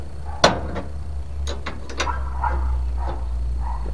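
Ratcheting clicks and metallic mechanism sounds while the rear brake of a Rusi Chariot 175 motorcycle is adjusted and tightened, scattered sharp clicks over a steady low hum.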